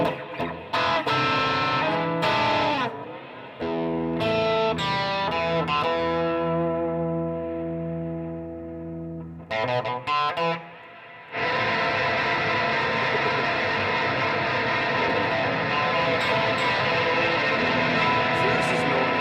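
Guitar through an Old Blood Noise Endeavors Dark Star Stereo Reverb pedal, drenched in noisy, washed-out reverb and distortion, with sustained smeared chords, brief dropouts, then a dense roaring wall of noise.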